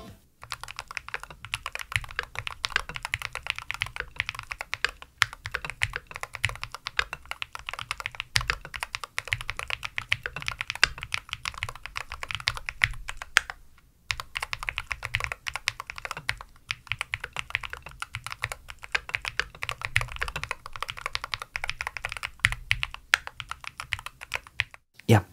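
Continuous typing on a WOBKEY Rainy 75 HE keyboard fitted with Jade Pro switches, with rapid, close and crisp keystrokes running for the whole stretch apart from one brief pause midway.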